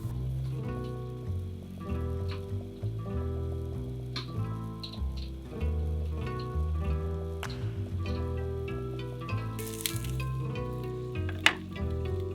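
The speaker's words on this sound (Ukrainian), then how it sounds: "Додаємо ще один шматочок вершкового масла і накриваємо кришкою. Смажимо ще 5 хвилин." Quiet, steady sizzling of lavash pizza frying in butter in a covered pan, with occasional soft ticks and clinks over a low background hum.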